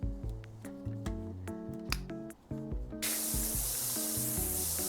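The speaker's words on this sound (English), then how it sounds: "these different nozzles affect like how wide the spray range is and how strong it is" A pressure-washer nozzle sprays in the PowerWash Simulator 2 video game, a steady loud hiss that starts abruptly partway through and drowns out the tonal game music that plays before it.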